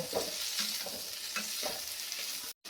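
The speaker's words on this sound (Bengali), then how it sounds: "এই দুটো কাঁচা লঙ্কা দিয়ে একেবারে নেড়ে নেব।" Fried eggplant is stirred with green chillies in a pan for a Bengali begun rani dish: soft, close sizzling with repeated scraping strokes of a spatula, then a brief dropout at the end.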